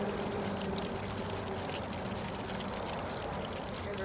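OASE Quintet garden fountain running with a light, steady spray of water, a continuous close hiss and patter of falling droplets with no pauses.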